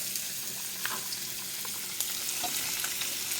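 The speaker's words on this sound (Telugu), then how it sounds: "అండ్ ఇమీడియట్గా ఆనియన్ కూడా వేసేసుకుంటున్నాను, ఎందుకంటే జీలకర్ర ఖరాబ్ అవుతుందని" Onion and cumin seeds frying in hot oil for egg bhurji, giving a steady, dense sizzle up close with a few faint stirring clicks and no voices.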